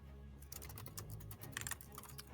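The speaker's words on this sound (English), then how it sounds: "Rapid fire typing from Glorb." Rapid typing on a computer keyboard: dense, fast clusters of light key clicks rattling in quick bursts, close and alone over a faint low hum.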